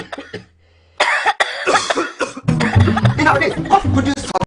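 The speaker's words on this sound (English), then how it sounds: "Are they still coughing?" People coughing in a TV advert, a brief cough, a pause, then a string of loud, close, harsh coughs with some throat clearing and voices mixed in.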